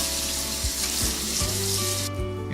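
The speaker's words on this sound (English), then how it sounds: "Rinse them with cold water." Cold tap water rinsing over blanched spinach for Korean japchae, a steady hissing splash of running water that cuts off abruptly near the end.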